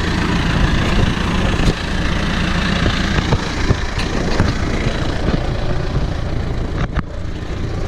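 A loud diesel engine of a John Deere 6430 tractor idles steadily nearby, a continuous low rumble with occasional clicks and knocks.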